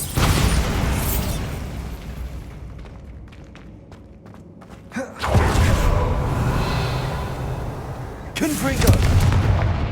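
Bombarda blasting spell explodes in Hogwarts Legacy with a loud booming burst, followed by crackling debris, then two more heavy blasts later on, loud and close with game sounds around.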